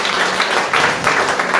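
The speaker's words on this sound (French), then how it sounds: "je crois qu'on peut l'applaudir bien fort" Audience applause at an art exhibition opening, a dense and steady wash of many hands clapping together, loud and close throughout with no pause.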